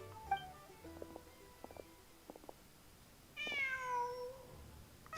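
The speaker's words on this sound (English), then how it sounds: "Oh, that's a cat." A cat meows in the video game Genshin Impact, a single drawn-out, falling meow standing alone and fairly clear after a stretch of quiet clicks and soft tones.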